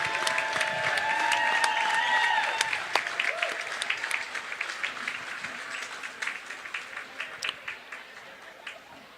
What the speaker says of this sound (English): let's have a big round of applause for our seniors